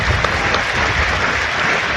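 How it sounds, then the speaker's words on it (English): Steady, dense applause from a full stadium crowd as spectators return to their seats at Vale Park during a Port Vale versus Salford football match, loud and continuous throughout. "Wonderful round of applause as everybody retakes their seat again here at Vale Park"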